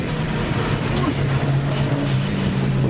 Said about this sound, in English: I love the sounds of this car on the track